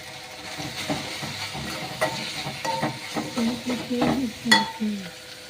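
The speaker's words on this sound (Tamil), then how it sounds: "அடுத்து வந்து முருங்கைக்கீரை போட்டுக்கலாம்ப்பா." Drumstick (moringa) leaves are stirred into a pan for soup, with repeated scraping strokes of a spoon over a light, steady sizzle.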